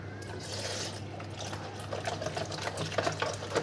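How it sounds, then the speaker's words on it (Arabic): Half a cup of milk is poured in a home kitchen, a soft liquid splash and trickle building toward the end, close and fairly quiet. "هنحط هنا بص نص كوبايه لبن"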